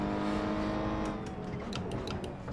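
A race car in a racing video game drones along with a steady engine tone, then the pitch shifts and drops as the driver brakes, with a few short clicks and tire noises toward the end.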